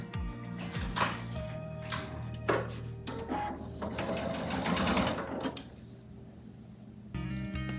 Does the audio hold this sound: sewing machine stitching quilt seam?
yes